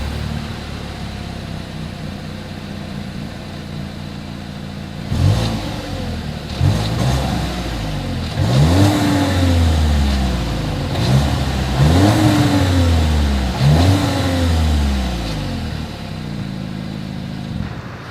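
Exhaust of a 2021 Volkswagen Tiguan, idling quietly before a series of about five rising revs, each climbing and dropping back in a regular pattern, close and fairly loud.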